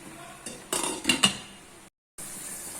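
Chicken being stirred in a pot for maqlooba, with a few sharp metal clinks and scrapes of a spoon against the pot, then a lid set down, followed by quieter steady background.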